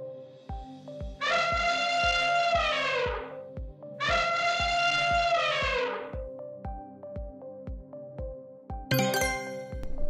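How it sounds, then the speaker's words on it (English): An elephant trumpets twice, two loud harmonic blasts each lasting about two seconds, over a ticking, chiming musical background that ends in a bright flourish. "Elephant."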